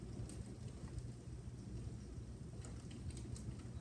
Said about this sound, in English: Oh shoot, the rain just got harder.